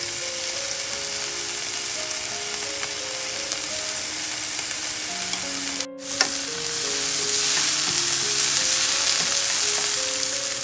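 Mushrooms stir-fry in hot oil with fragrant shallots for a vegetarian fried noodle dish, a constant close sizzle with a brief clank midway, the frying growing louder afterward.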